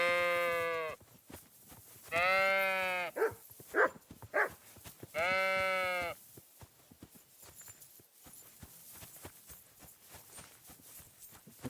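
Three loud, drawn-out sheep bleats in Kingdom Come Deliverance 2, with shorter bleats between them, then soft footsteps and shuffling.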